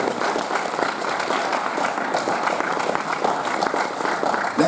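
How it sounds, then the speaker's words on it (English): A room full of people claps steadily, a continuous wash of applause at moderate loudness with no break for the whole stretch. "So, ladies and gentlemen, please give them a round of applause."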